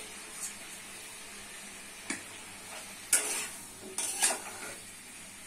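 Okra and potatoes tipped into a pan of cooked-down spice paste, with faint sizzling frying and a few sharp clinks and scrapes of a utensil against the pan, quiet and close with no talk.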